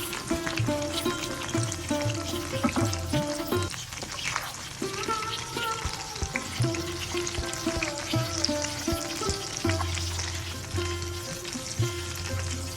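Hilsa fish parcels wrapped in gourd leaves sizzle steadily in hot oil, a continuous crackling fry with small bubbling pops that runs close and fairly loud for over twelve seconds, under background music.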